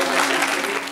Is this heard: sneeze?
no